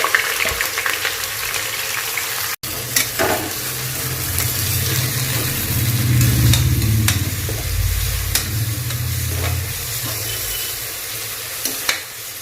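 Sliced onions sautéing in ghee and oil for biryani, a continuous close sizzle with bursts of stirring and occasional clinks of a utensil against the pot, and no voices.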